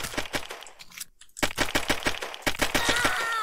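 Rapid pistol shots from the egg-themed first-person shooter Shell Shockers crack out in quick, dense bursts, with a brief silent gap before the fire resumes steadily to the end.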